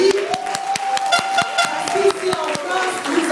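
Rhythmic clapping from a crowd at an African solidarity rally in Paris, with sharp regular beats at a steady pace. It sits under loud, sustained singing or chanting voices and carries on throughout.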